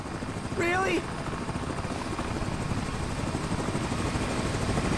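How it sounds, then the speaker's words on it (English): A video game helicopter's steady rotor thrum fills the background and grows gradually louder, with a brief voice-like shout near the start. "Sending a damn helicopter to catch me?"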